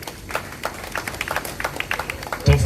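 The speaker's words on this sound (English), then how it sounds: "A round of applause for him, please." Sparse, scattered clapping from a convention audience greets a state finance commissioner at a launch event in Benin City, Edo State, light and uneven with a few voices beneath.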